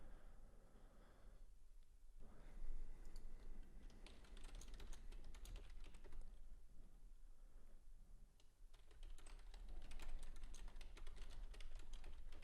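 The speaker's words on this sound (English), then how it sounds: "If you do hear typing, that's just me making alerts" Steady, faint clicking of a computer keyboard as someone types alerts during live day trading, with bursts of quick keystrokes over a soft room hiss.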